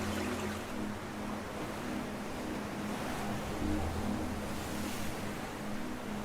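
Pacific Ocean waves washing in a continuous broad roar, with gentle surges and a low rumble beneath, no voices.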